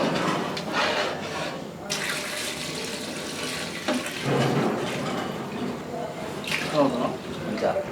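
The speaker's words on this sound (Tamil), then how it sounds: "தண்ணி அளந்து ஊற்றுனேன்னா அதில் 2 செம்பு பிடிக்குது." Water pouring into a cooking pot for kuska rice, a continuous splashing rush with brief pauses and surges, heard close up while people talk over it.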